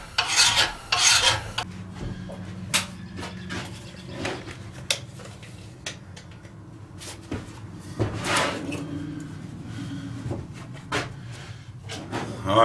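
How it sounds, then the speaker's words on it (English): Facets of a forged steel garden shovel are filed, giving close, scraping rasp strokes in bursts with pauses and occasional knocks, no talking. "now we're going to start filing the facets"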